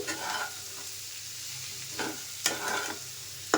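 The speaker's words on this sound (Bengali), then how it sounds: "আমি একেবারে তেলেতে আলুটা ভেজে নিয়েছি পেঁয়াজ দিয়ে দিয়েছি" Potatoes and onions fry in oil with spices, giving a steady close sizzle broken by a few sharp stirring scrapes.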